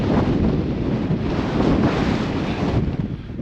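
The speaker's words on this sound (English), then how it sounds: "The wind's picking up." Gusty wind on a hillside beside a loch, roaring steadily and loudly across the microphone with no voices.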